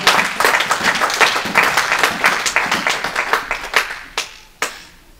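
A church congregation claps for the Lord during a French-language sermon, giving dense, energetic applause that gradually thins into a few scattered, isolated claps at the end.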